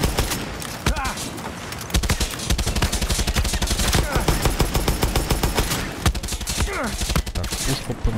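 Rapid bursts of automatic gunfire in Far Cry 6 crackle almost continuously, with sharp repeated shots and a few brief gaps between volleys.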